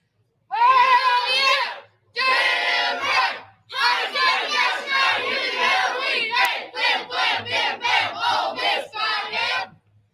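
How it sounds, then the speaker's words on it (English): A live crowd at a baseball gathering shouts the Ole Miss chant in unison, loud rhythmic bursts of voices, starting with long drawn-out calls and then quickening into short clipped syllables. "we're going to do a live performance of the Ole Miss chant"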